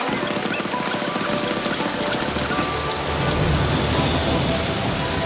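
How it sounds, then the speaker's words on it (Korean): Heavy rain pours on a mountain slope, a dense, loud and continuous hiss of drops that thickens with a low rumble partway through. "비가 너무 많이 내려서인지 흙도 무너지고 낙석도 떨어지고 뭔가 이상해요"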